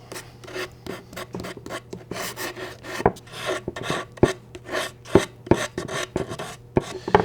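Sandpaper worked by hand over a bare wood corner, making loud, close, rhythmic rasping strokes that repeat about every half second, with no talk.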